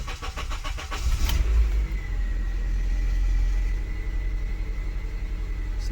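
A police-impounded car left sitting for five years idles and then pulls away on its first drive, its engine a deep, steady rumble up close, swelling briefly as it moves off, with no one talking.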